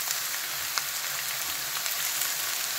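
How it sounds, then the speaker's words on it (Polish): Chicken pieces sizzle steadily in a hot pan while being browned for a chicken curry, a dense, even crackle of frying with faint scattered pops and no voices. "Chcemy, żeby ten kurczak był mocno obsmażony, fajnie, z każdej strony tutaj."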